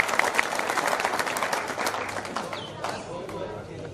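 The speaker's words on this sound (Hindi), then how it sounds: "एक बार जोरदार तालियां बजाकर बताइए कि आप हमको सुन रहे हैं" Crowd at a Hindi comedy poetry gathering claps loudly in a dense burst that gradually thins out, with some voices mixed in among the hands.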